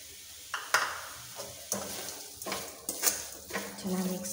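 Beetroot fry with fresh coriander being stirred in a hot pan, a steady sizzle broken by repeated scraping strokes of a spoon against the metal, close and clear with no talking.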